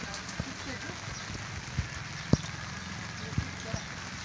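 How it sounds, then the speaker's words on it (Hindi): Light drizzle falls steadily on a surface during a rainy morning, a soft continuous patter with a few sharper drops and knocks standing out, while people talk quietly in the background. "बारिश भी भीनी भीनी।"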